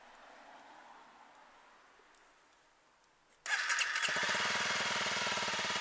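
A Honda CRF250L motorcycle engine cranks with a starter whine after a clutch change. It catches and settles into a loud, steady idle close by, following a quiet stretch of faint background hiss.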